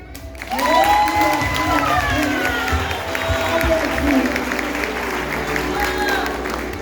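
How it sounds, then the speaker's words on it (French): Audience applause at a ceremony for Colosso students of the 2021–2024 class and their parents, steady and fairly loud clapping through the clip, with whistles and voices mixed in. "Un tonnerre d'applaudissements."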